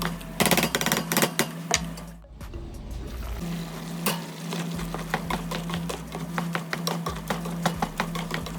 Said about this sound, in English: Now I'm going to keep chopping it up as it brown until it get well done.